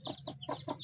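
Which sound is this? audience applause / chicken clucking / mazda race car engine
chicken clucking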